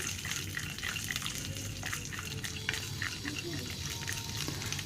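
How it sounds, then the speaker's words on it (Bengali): Nuts frying in a pan over medium-low heat with a steady soft sizzle and faint stirring clicks, continuous and moderately close. "বাদামগুলো দিয়ে দেবো এর ভিতরে। এবার ভেজে নেব।"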